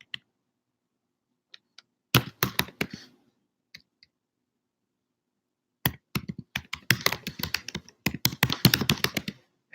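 Computer keyboard typing, close and crisp: a few isolated key taps, a short burst, then a longer quick flurry of clicks, with no talking.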